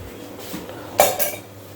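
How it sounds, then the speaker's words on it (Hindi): Dishes, pots and steel utensils being washed in a home kitchen, with a soft background scrub and a couple of sharp metallic clanks near the end, close and alone without talk. "और अब मुझे मारनी है बर्तन"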